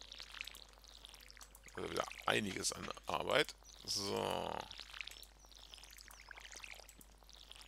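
Watering crops with a watering can in Stardew Valley, several short splashy pours in quick succession, with someone speaking German before and after.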